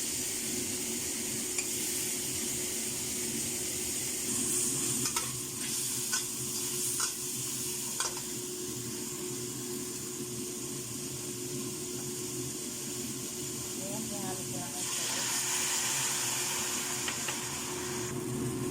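Mushrooms simmer in a pan with oyster-sauce sisig sauce and water, giving a steady, close sizzle and bubbling hiss with occasional stirring scrapes throughout.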